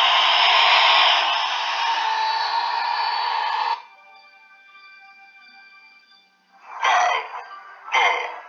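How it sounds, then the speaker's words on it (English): A rocket launch roars as a dense, loud rush of noise for several seconds, then fades to a lingering hum broken by two further short bursts of roar. "And now this is the sound of a rocket."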